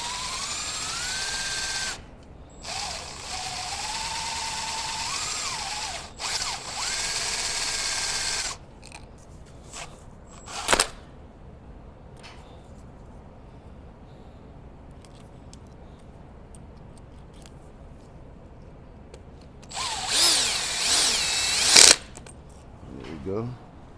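A power drill whirs in several bursts as it drives a screw into the plastic of an MDS solenoid on a 6.4 HEMI engine. A pause with quieter clicks and handling noises separates the early bursts from a loud, high-pitched final run.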